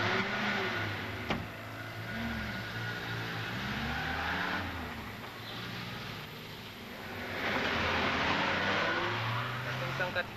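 A car drives off, its engine rising and falling in pitch as it revs and pulls away. The engine stays moderately loud throughout, with a voice speaking over it.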